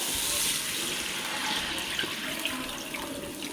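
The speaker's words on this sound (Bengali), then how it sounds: "দিয়ে দেবো জল" Water pours steadily into a pan of curry, a continuous splashing rush at close range, with no talk.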